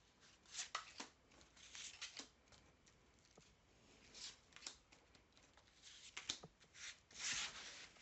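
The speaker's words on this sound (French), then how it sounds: "Je tire mes 13 cartes." Tarot cards are drawn one by one from a deck, giving soft, papery slides and flicks in an irregular rhythm, close and faint, with no voices.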